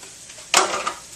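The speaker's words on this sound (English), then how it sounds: "we're going to start adding some mushrooms a little bit, and we're going to start browning those" A sudden burst of sizzling starts partway through as mushrooms hit a hot frying pan and crackle steadily while browning, fairly close and loud.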